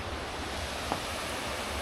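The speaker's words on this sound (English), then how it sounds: "Imagine those are the falls right there." Cooper Brook Falls on the Appalachian Trail in winter gives a steady broadband rush of falling water, a constant roar with a faint brief tap partway through.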